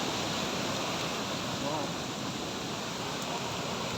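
Floodwater rushes after heavy rain in a steady, loud, broadband roar that holds constant from start to finish with no pauses.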